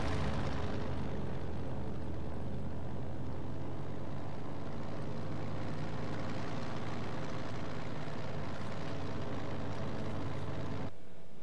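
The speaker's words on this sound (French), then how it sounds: "Un avion de reconnaissance allié arrive!" An Allied reconnaissance plane from Company of Heroes 2 drones overhead in a steady, loud propeller-engine roar that holds for most of the stretch and then cuts off abruptly near the end.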